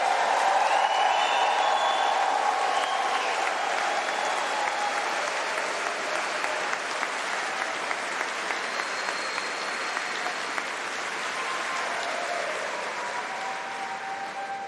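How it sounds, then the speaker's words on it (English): Sustained applause from a large crowd at a graduation ceremony, steady and enthusiastic, with some cheering mixed in, slowly easing off toward the end. "one more round of applause, cheers, whooping"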